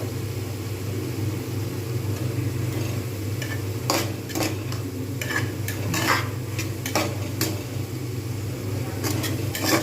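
Spiced pea lentil filling with fresh coriander leaves is stirred in a pan, with a low steady background hum and bursts of scraping and metal clinks from the spoon, close and moderately loud.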